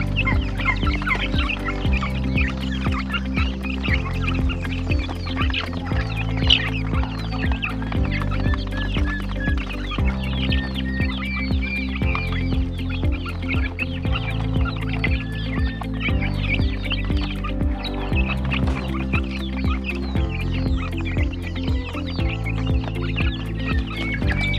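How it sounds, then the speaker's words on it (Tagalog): Hungry Rhode Island Red chickens cluck busily and continuously near at hand, their overlapping calls spread over a steady, dense low backdrop throughout. "So dito tayo sa ating Rhode Island Red"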